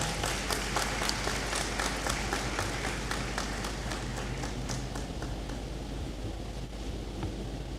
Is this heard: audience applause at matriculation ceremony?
yes